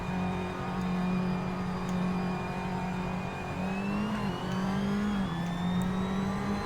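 A race car in a Formula 4 style sim racing game pulls out of the pit lane, its engine holding a steady high drone, then revving up through gear changes, loud and close with no talk.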